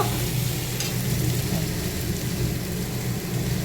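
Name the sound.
greens frying in oil in a wok (kadai)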